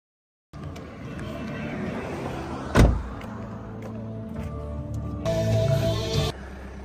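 A car drives home after a ski trip to Saas-Fee, with steady engine and road rumble from inside the cabin, a sharp thump near the middle and a power window motor whirring briefly near the end.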